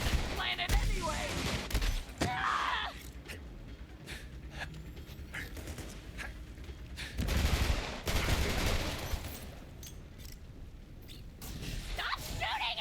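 Gunfire in the Borderlands 3 video game, bursts of shots and rapid volleys crackling loudly in clusters, with whooshes and other game effects in between.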